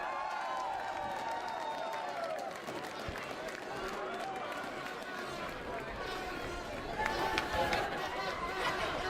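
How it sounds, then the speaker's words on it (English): Crowd cheering and chattering for the Polish school group at the Cavan Town St Patrick's Day Parade, a steady outdoor roar of many voices that swells near the end, with an announcer's voice over it. "Let's hear a big cheer from the Polish school"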